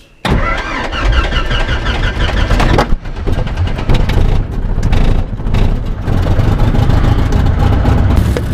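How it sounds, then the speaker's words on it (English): A light aircraft engine roars at high power during takeoff, loud and continuous from start to finish after an abrupt onset, with a brief dip partway through and no talking. "Jumped in the plane and blasted off."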